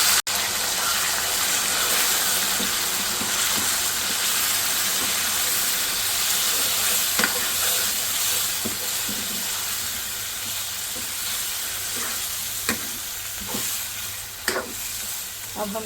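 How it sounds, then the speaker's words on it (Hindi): Minced meat for keema biryani frying in oil, a dense, steady sizzle with occasional stirring scrapes and clinks, close and continuous throughout. "अब डालते हैं कीमा।"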